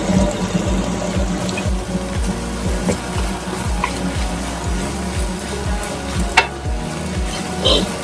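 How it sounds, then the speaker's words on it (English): Curry leaves sizzle and crackle in a hot pan for egg masala bhurji, a loud continuous frying hiss with rapid popping and stirring scrapes close by. "Adding curry leaves."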